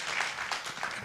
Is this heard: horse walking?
no